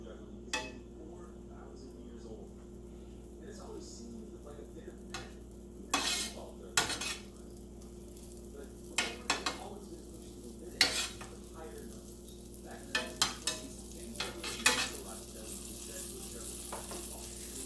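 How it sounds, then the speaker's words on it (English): Butter sizzles in a hot pan while a spoon scrapes and clinks around it, spreading it, with irregular louder metallic scrapes and taps over a steady low frying hiss and no talk. "Let's get a spoon and spread this around a little bit."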